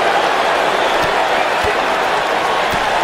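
An arena crowd in the wrestling video game WWF 2K19 roars in a steady wash of cheering and applause, loud and continuous, with a few faint thuds underneath.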